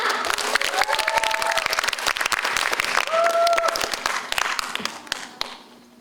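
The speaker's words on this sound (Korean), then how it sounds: "많은 박수 부탁드립니다." An audience at a student speech presentation applauds with dense, loud clapping that stays steady before tapering off near the end, with a few cheer-like tones over the clapping.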